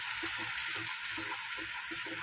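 Onions fry in a pan for a spiced vegetable curry, giving a steady, close sizzle with soft rhythmic stirring scrapes and no talk.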